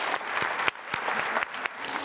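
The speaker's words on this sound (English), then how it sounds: "Could we all give them one more round of applause as they exit the stage?" An audience at a community kickoff event gives warm, dense applause as performers leave the stage. The clapping is continuous, close and steady, with no speech over it.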